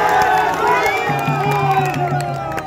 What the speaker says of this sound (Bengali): জোরে হাততালি দিয়ে একবার তাকে স্বাগত জানাই।